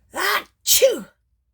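A loud, close human sneeze in two parts: a short sharp intake followed by a forceful burst, then silence.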